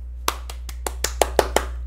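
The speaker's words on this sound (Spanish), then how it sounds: "Aplausos." Applause in a classroom: about eight separate, crisp hand claps in a loose, quickening rhythm, close and moderately loud over a low steady hum.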